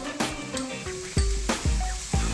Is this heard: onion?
yes